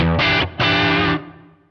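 A loud, heavily distorted electric guitar plays two sustained chords with a short break between them, then rings out and fades slowly.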